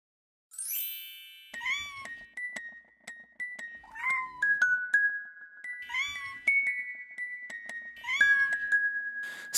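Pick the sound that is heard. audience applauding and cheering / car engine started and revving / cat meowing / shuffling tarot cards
cat meowing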